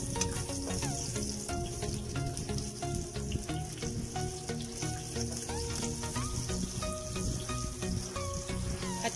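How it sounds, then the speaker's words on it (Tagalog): Chopped onion sizzling in hot oil in a kawali, a dense, continuous crackle that holds steady and fairly quiet throughout without a break. "At pag mainit na ito, lalagay ko na ang sibuyas."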